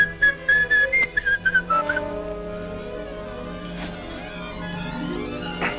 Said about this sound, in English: but I can whistle a bit.